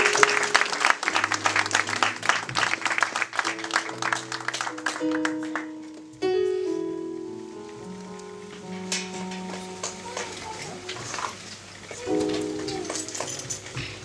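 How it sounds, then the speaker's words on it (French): At a Congolese religious wedding in Dijon, a crowd claps loudly while keyboard chords play; the clapping thins out midway and the music carries on with scattered applause. "Sur vos acclamations, nous allons recevoir le pasteur Emmanuel."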